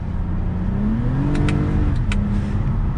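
A car engine revs up in sport mode, a 2022 Hyundai Sonata N-Line or Toyota Camry TRD, with a loud close rising drone climbing through one gear before easing back, no voices.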